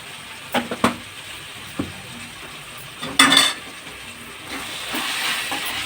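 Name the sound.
mutton frying with onions in a pan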